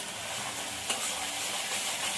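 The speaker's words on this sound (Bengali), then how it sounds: "মশলাটা ভালো করে কষিয়ে নেব।" A spice paste of ground ginger, cumin, chili and garlic with turmeric powder fries loudly in a pan, a continuous close hiss and sizzle with a brief stirring scrape partway through.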